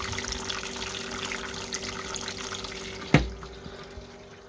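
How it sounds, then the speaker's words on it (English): Hot sweet wort flows steadily into a vessel during sparging while brewing an IPA, a continuous close liquid rush with a sharp clunk near the end, no talk. "A nice hot sweet wort flowing into here."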